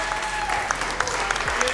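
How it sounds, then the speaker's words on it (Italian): An audience applauds a young first-place winner at a fingerboard contest, with steady, dense clapping that runs throughout and a few sharper claps standing out. "io farei un applauso a questo giovane ragazzetto"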